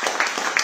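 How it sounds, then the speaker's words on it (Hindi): A short burst of audience clapping honours a security guard of 25 years, the applause fairly loud and close, with scattered claps, and a voice briefly heard within it. "एक बार जोरदार ताली बजा दो"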